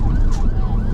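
UK ambulance siren sounding in rush-hour traffic, a wailing rising and falling tone heard briefly over a loud low road rumble.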